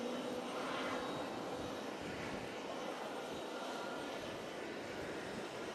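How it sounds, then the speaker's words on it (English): Emirates Airbus A380 taking off at JFK International Airport, a broad, steady jet roar heard from a distance that holds level throughout with no voices. "looks like we got the Emirates A380 about to take off"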